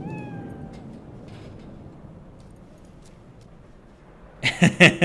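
A cat meows in the video game Cyberpunk 2077 with several short, loud meows close by near the end, following a quiet stretch with a brief voice at the start.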